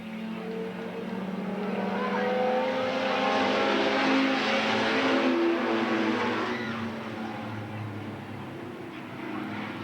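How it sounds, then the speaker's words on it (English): Race cars roar around Eugene Speedway, with a 1937 Ford coupe powered by a 250 Chevy engine in the lead. The engines build to a loud, dense drone that swells toward the middle and then slowly fades. "Brandon Thomas with the lead in the 17 car"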